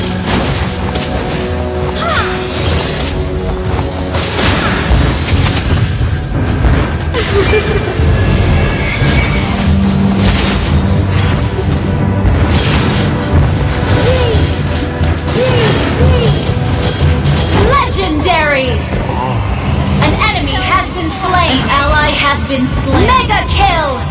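A turret being destroyed in the Mobile Legends mobile game, heard as repeated smashing crashes and thuds inside a dense, loud, continuous mix of battle effects and music.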